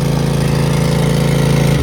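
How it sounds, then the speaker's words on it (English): A riding lawn mower engine runs steadily nearby, a loud continuous low chugging drone that drops slightly just at the end. "Had to ride the lawnmower up here"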